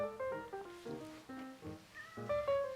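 A cat meows several times in a row, short quiet calls close by with soft rustling between them.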